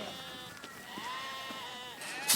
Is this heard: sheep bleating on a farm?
yes